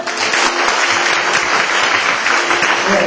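Loud, sustained applause from a crowd at a baptism ceremony, steady clapping filling the whole stretch without pause.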